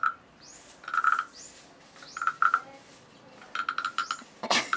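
A decorative wooden frog is played with a scraping stroke, giving raspy croaking bursts in short repeated runs, close by and fairly quiet in an otherwise still room.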